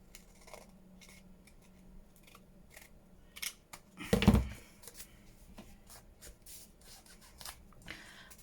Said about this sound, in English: And then I'll get the scissors and cut